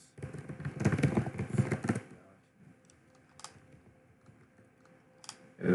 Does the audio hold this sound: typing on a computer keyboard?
yes